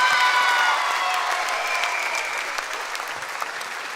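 Loud, dense audience applause on a TV talent show, a full crowd clapping steadily from start to finish and tapering only slightly toward the end.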